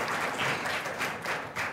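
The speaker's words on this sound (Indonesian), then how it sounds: "berikan tepuk tangan buat Miftah sama Esther" A church congregation gives a short burst of applause for two people returning to their seats after a sermon demonstration, with dense, steady clapping over less than two seconds.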